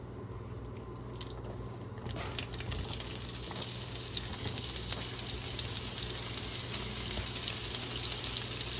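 Onions fry steadily in leftover sausage grease in a pan, a dense, continuous close sizzle with faint crackles that grows slightly louder after the first couple of seconds, with no talking.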